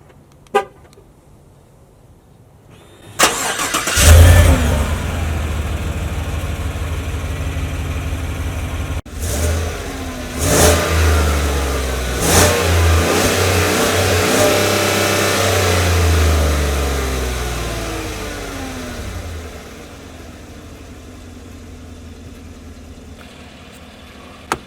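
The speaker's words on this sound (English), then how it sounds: "Here's what the car sounds like." 2017 Chevrolet Tahoe engine starting and revving, a loud close start followed by several throttle blips with rising and falling pitch, then settling to a steady idle, with no talk.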